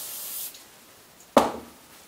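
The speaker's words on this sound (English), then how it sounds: "Use some oil. Spray it on the rag." Two short hissing sprays of oil onto a rag while cleaning a Remington 700 rifle: a longer soft spray at the start, then a sharper, louder burst midway that fades quickly into quiet.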